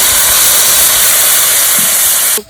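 Water hits hot frying spices with pea and potato in a pan, setting off a loud, continuous sizzling hiss of steam that cuts off abruptly near the end.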